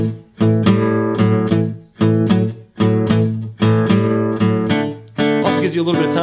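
A rhythm guitar plays a bluesy shuffle in a lesson setting, with loud, evenly spaced strummed chord bursts that swing in a repeating long-short pattern and ring briefly before each new stroke, played alone.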